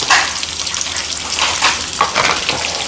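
Onions and green chillies with curry leaves and salt sizzle and fry steadily in a hot pan, a continuous crackling hiss with small bursts as they are stirred, close and fairly loud.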